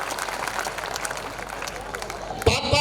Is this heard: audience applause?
yes